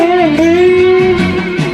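An electric guitar plays the end of the first verse of a guitar solo, a loud, close, sustained bending lead line with a few quick notes at the end and no talk.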